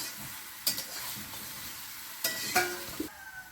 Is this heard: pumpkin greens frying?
yes